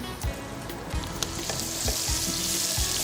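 Chopped onion and dried chili fry in hot soybean oil in a pan, giving a constant close sizzle and crackle with a few soft stirring knocks and no talking.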